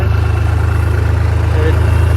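A farm tractor, a Bassi 3630, idling and running with a loud, steady low diesel throb close by, a regular pulsing rhythm throughout.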